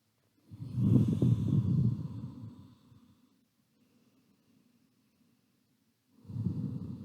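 Slow, deep breathing during a gentle yoga practice: a long, loud exhale, a quiet pause, then the next breath beginning, close and alone without talk.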